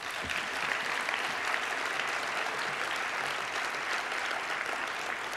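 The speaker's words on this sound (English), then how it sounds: "they deserve your round of applause" A large audience at a speech by Mayor Michael Bloomberg gives a steady, dense round of applause, continuous clapping throughout with no talking over it.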